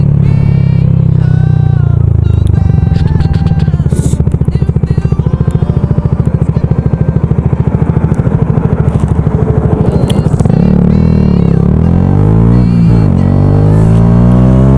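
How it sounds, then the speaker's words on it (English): A Yamaha YZF R125 motorcycle fitted with a Nakaprovia exhaust runs loud and close, its engine buzzing steadily with rapid firing pulses, then revving up and shifting pitch as it accelerates. "if you're thinking about getting a Nakaprovia exhaust, then obviously you can see what it sounds like in this video"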